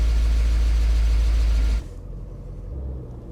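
A BMW E39 M5 engine, long off the road and needing a new fan clutch, idles with a loud steady rumble and hydraulic lifter noise, then drops abruptly to a quieter low idle partway through.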